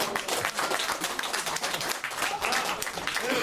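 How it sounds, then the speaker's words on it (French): An audience applauds in a dense, continuous patter of many hands clapping, steady and moderately loud throughout the short burst. "des gens qui applaudissent mais qui n'ont pas compris"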